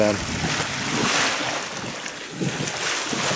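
A small sailboat slides through the sea in a light breeze, with a steady wash of water along the hull and rushing wind buffeting the microphone, loud and continuous throughout.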